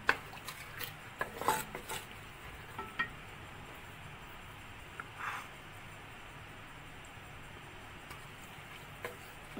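A spoon scrapes and taps around a pan as a dry spiced mixture of whole coriander and chaat masala is stirred and roasted for a potato bread patty filling, with faint, irregular clinks over a quiet kitchen background and no talking.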